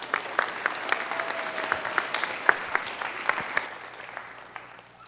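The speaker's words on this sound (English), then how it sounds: "give her a nice round of applause as well" An audience claps for a volunteer at a high school magic show, scattered sharp claps over a steady wash of applause that fades out toward the end.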